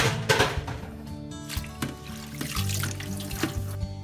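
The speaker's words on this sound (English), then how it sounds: "Add together and wash in cold water, changing water about 3 times or until the water's clear." Collard greens and spinach are washed in cold water in a kitchen sink, with steady running and splashing water close by throughout and no voices.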